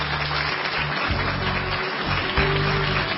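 A studio audience applauds as a guest with a doctorate in business administration is welcomed onto a Korean TV talk show, steady broadband clapping filling the room for a few seconds with no talk over it.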